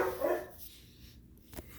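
Dogs bark in a brief burst at the start, then a faint yip follows later, with no one talking over them.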